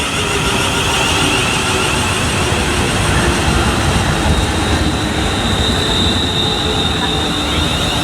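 A Class 350 electric train at Watford Junction, a steady loud rolling rumble of wheels on rail with a faint high squeal running through, close by and continuous.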